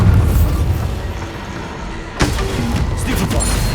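Bombarda blasting spell explodes in Hogwarts Legacy combat, a sudden loud burst at mid-clip cutting through a dense, continuous wash of battle noise and rumble.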